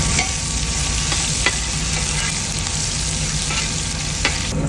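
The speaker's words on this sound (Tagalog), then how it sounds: "Lagay yung luya." Sliced ginger fries in hot oil with a loud, steady sizzle, punctuated by occasional stirring scrapes close by, and no one speaks.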